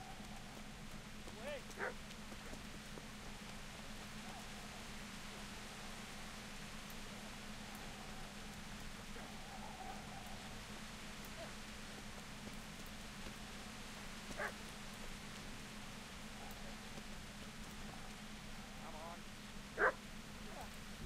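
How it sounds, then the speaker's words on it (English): In the video game Kingdom Come Deliverance, a dog barks faintly and far off a few times, the occasional isolated barks set against a constant rain-like background hiss. "So I hear a dog."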